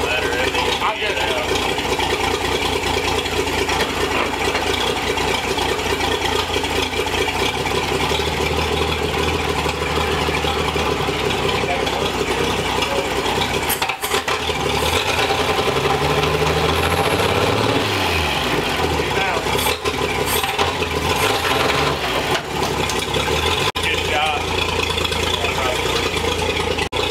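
An old barn-find Chevrolet Apache truck engine runs steadily in the foreground, loping unevenly as the clutch is eased out in reverse, with people talking over it throughout.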